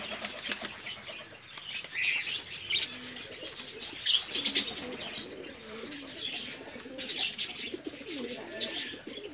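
Doves and budgies in a pet enclosure flap their wings and move about, with soft cooing and scattered chirps and tweets layered over a constant rustle, fairly close.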